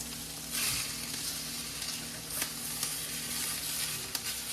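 Home-grown oyster mushrooms fry in a hot pan with a steady close crackling sizzle, a few louder pops and spits breaking through the continuous hiss.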